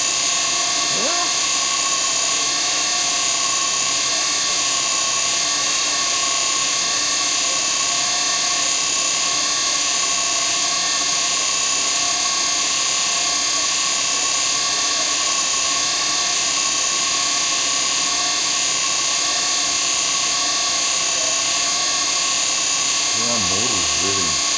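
Steady electric hum of a treadmill motor running continuously, with a whining tonal drone throughout and a brief voice near the end.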